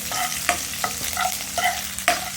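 Onion frying lightly with garlic and green chilli in a pan, a steady sizzle under repeated scraping strokes of a spatula, about five firm stirs, close and without speech.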